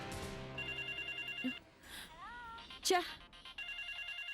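A telephone rings with repeated electronic tones in an indoor scene, the pattern broken briefly by a short voice and other sounds before ringing resumes.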